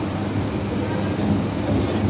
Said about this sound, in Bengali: আমাদের ট্রেন ছেড়ে দিয়েছে